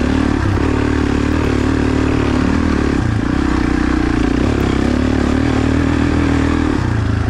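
A Suzuki DRZ400E dirt bike runs in a cross-country race, its single-cylinder engine droning loud and close with a steady note and short dips as the throttle shifts.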